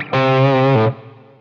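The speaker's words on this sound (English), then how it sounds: "I think you can hear how the gain is lower when you turn the tone control all the way down" Electric guitar through a Xotic Soul Driven overdrive pedal with the tone control fully down, a single dark, mildly distorted note or chord sustaining loudly for under a second before dropping off into a fading tail.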